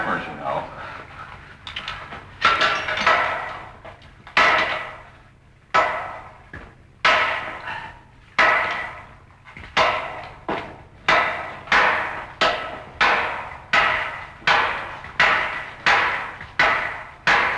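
Two hammers repeatedly striking a wall to break it open, sharp heavy blows landing one after another, sparse at first then in a steady rapid rhythm, loud and close.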